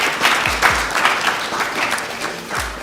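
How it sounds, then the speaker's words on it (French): Audience clapping loudly to welcome a speaker on stage at an event, a dense steady round of applause with some heavier claps standing out, fairly close. "On va l'applaudir très fort parce que c'est un baptême de feu."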